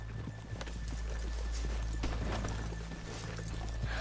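Horse hooves clip-clopping in Red Dead Redemption 2, a continuous patter of steps over a low rumbling backdrop, fairly quiet and with no talking.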